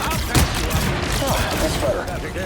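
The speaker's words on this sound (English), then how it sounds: "Another good pulse cannon shot." Iron Man's pulse cannon fires in the Marvel Rivals video game, a rapid volley of punchy blasts and booms layered over busy game effects, with a voice talking over them.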